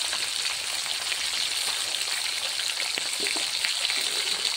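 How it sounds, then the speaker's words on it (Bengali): Fish fry in hot oil with a steady, dense sizzle and crackle that holds at an even level throughout, close by and with no talking. "এগুলো মাছগুলো দেখো গরম তেলে ভাজা হচ্ছে"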